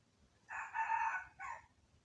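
A single rooster crows nearby in a village, one drawn-out cock-a-doodle-doo with a short final note, clear against a quiet background.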